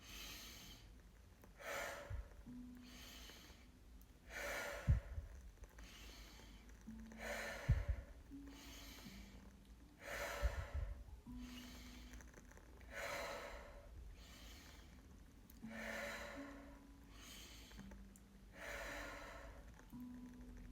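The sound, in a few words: deep rhythmic breathing exercise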